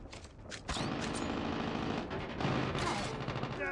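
Rapid bursts of automatic gunfire from a team deathmatch in COD Mobile multiplayer, dense overlapping shots and a loud sustained stream through most of the moment, with no voices.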